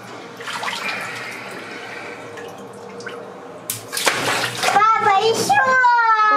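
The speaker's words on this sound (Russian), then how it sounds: "И вода плюхает об воду." Water splashes and drips down into water with a running, gurgling wash. A child and an adult talk over it, and the splashing grows louder and busier toward the end.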